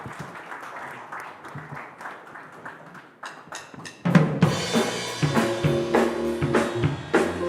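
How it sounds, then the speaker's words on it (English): Audience applause breaks out at a food awards ceremony, starting with scattered claps and swelling into loud, dense clapping from a large crowd. "A big round of applause, guys."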